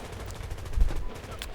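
Gunfire in the Medal of Honor game, a short burst of rapid shots in a rough rhythm over a low rumbling background, moderately loud with no talk.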